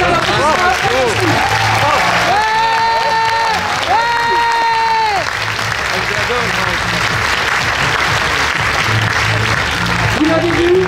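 Applause from the crowd at a political rally in Tarbes, a loud sustained roar of clapping with cheers, while music-like tones and voices sound over it.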